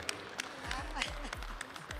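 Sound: audience applause at a retriever working test demonstration

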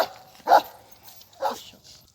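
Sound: Kangal dog barking

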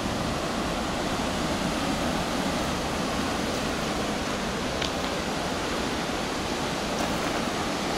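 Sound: huge waves crashing on a rocky beach

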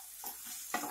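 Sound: stirring dal khichdi with kasuri methi and coriander

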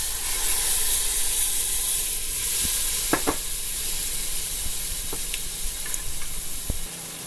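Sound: chana dal cooking in pan with ghiya

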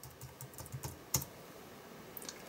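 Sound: typing on a computer keyboard

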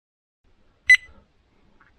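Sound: electronic device beeping

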